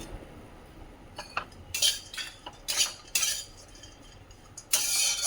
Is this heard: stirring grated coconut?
yes